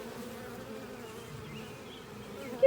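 Honey bees buzz steadily around a hive holding two queens, a dense, even drone close by with no voices.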